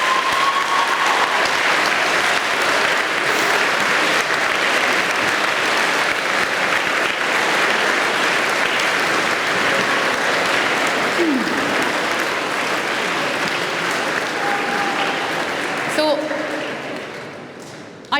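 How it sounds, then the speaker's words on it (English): School audience at a college event breaking into loud, sustained applause, many hands clapping densely for the whole stretch before tapering off at the end. "I think we deserve a round of applause there"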